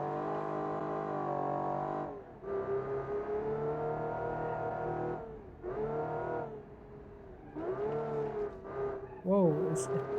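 A 1950s car drifting in the driving simulator BeamNG: a droning, buzzy engine tone rises and falls in pitch through several revving surges with short gaps, ending in a wavering, squealing section.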